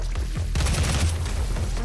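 Boomstick double-barrel shotgun blasting in the demon-slaying shooter DOOM, a few heavy booming shots in quick succession over a dense, noisy game mix.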